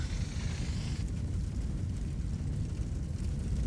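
Flamethrower fire unleashed on alien enemies in the sci-fi tactics game Aliens: Dark Descent, a loud, steady roaring rumble with a hissing top that cuts off after about a second while the low burning roar continues.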